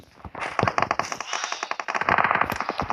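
Machine gun fire in a video game rattles in rapid continuous bursts, loud and close, with dense overlapping shots throughout.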